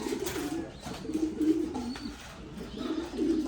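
Pigeons in a racing pigeon loft coo in soft, repeated low throaty calls that run steadily throughout, fairly close, with no talking.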